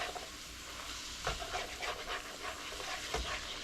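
Onions frying in a pan for a sloppy joe pasta bake, a faint steady sizzle with a few soft stirring scrapes and bumps, close by with no talking.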